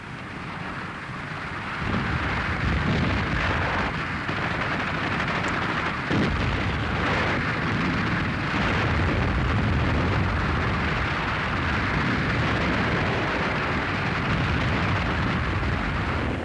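World War II artillery gun barrage on the western front in Germany, a continuous loud rumbling roar of distant explosions with dense, sustained low booms and no speech.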